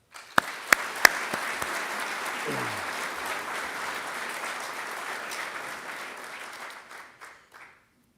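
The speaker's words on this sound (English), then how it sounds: "let's give all of our award winners a round of applause" Audience applause for award winners at a law enforcement academy graduation, a steady broad clapping that follows a few sharp claps, holds for several seconds and fades out with scattered last claps.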